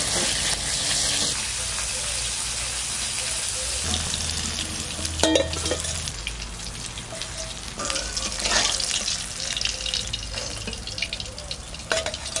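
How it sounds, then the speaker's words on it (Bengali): Pieces of katla fish fry in a pan of oil with a steady broadband sizzle, broken by a few sharp spatters and clinks as pieces are turned, fairly close and continuous throughout. "তিন পিস করে ভেজে নিচ্ছি, আর যে কটা আছে এইভাবে আমি ভেজে নেব।"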